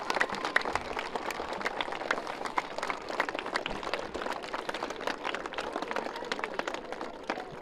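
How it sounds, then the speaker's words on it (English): A crowd applauds veterans with dense, steady clapping that holds at an even level throughout, close and unbroken. "Put your hands together for our veterans."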